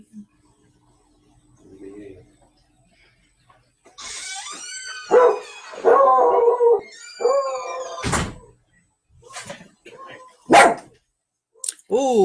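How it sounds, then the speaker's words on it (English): Several dogs bark and howl in a shop, a run of drawn-out wavering howls followed by sharp, loud barks, close by and fairly continuous over several seconds. "we get to hear all the dogs barking today"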